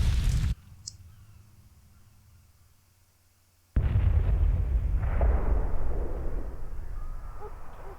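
A huge explosion in the video game Dreamfall Chapters bursts out loud and close, then leaves a long rumbling, crackling roar that fills the rest of the moment, coming after a short burst and a quiet lull.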